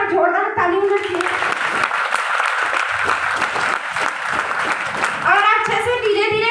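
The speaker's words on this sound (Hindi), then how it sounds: "स्मार्ट वैल्यू के लिए एक बार जोरदार ताली होना चाहिए" Audience bursts into loud, sustained applause at a talk by a speaker, dense clapping lasting several seconds, with a voice speaking before and after.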